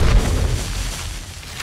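An explosion in the survival video game 7 Days to Die gives a loud, deep boom that fades into a rumbling tail, with no talk over it.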